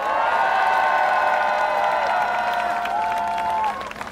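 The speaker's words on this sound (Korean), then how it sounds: "자, 박수 한번 주십시오." A crowd at an outdoor presidential campaign rally in Seoul claps and cheers loudly, with sustained tonal sounds over the clapping, before the noise drops off abruptly near the end.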